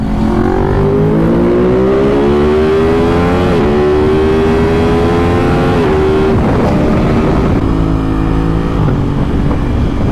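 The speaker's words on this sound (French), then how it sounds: "Le bruit du shifter, il est incroyable." An Aprilia RS 660 motorcycle accelerates hard onto a highway, its engine climbing loudly through several gears with crisp quickshifter cuts between rising revs, close and continuous.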